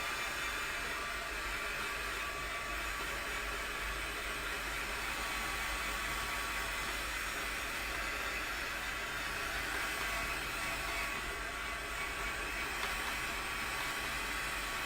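A heat tool or dryer blows steadily while drying ink layers in an art journal, making a constant, faint, airy hiss and whir with no breaks and no talking.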